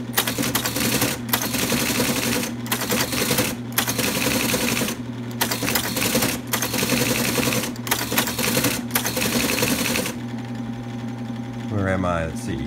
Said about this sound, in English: I can just repeat the next commands over and over and type in this program